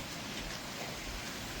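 Steady rain hisses all around during a run near a flyover, a dense continuous wash at moderate level with no voices.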